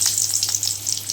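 Cumin seeds sizzling in hot oil on a gas stove, a loud, dense crackling hiss close by with small bursts of popping and no talking.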